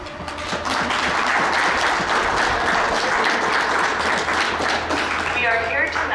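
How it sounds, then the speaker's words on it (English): Loud, steady applause from an audience greets a Boy Scout color guard at an evening flag ceremony, continuing without a break for several seconds with a few voices mixed in. "Let's have a round of applause for our color guard."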